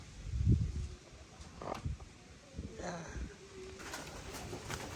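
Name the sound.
pigeons cooing at a poultry farm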